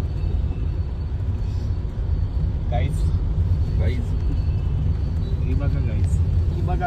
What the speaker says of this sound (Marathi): आता हे बघा तुम्ही ट्रॅफिक